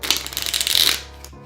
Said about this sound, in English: that's not a very professional way of shuffling cards